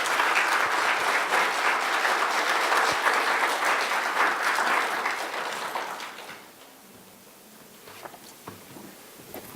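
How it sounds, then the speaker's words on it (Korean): A symposium audience gives strong, sustained applause to welcome a professor to the lectern. It carries for about six seconds, then tapers off into a quiet room with a few scattered small noises. "교수님을 박수로 모셔서 마지막 강연을 듣도록 하겠습니다"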